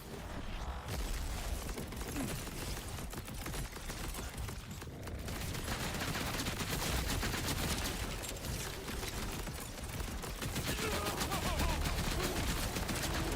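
Targeted barrage attack in the video game Soulframe, a dense rapid volley of crackling impacts and mechanical clatter that runs continuously with little let-up, fairly quiet overall.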